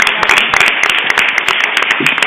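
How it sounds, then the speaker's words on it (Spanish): Applause from an audience at the grand final of a cultural olympiad, a dense, steady wash of many hands clapping close and loud throughout, with no voices standing out. "pues un fuerte aplauso a Mari Carmen, la apuntadora."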